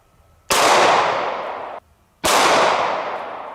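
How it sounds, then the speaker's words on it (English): A .500 Magnum revolver fires twice at eggplants outdoors, each shot a sharp, very loud blast with a long ringing tail, about two seconds apart. "Now let's shoot a few eggplants because nobody likes eggplant."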